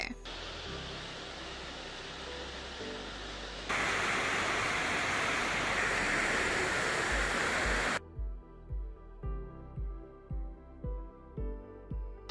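Loud, steady roar of floodwater pouring through the Hemavathi dam gates during heavy-rain overflow, a dense continuous rush that grows even heavier midway before giving way to rhythmic thumping sounds.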